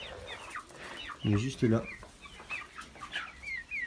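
A young rooster about four months old clucks close by among farm poultry, giving a short pair of strong calls partway through, with someone speaking French over it.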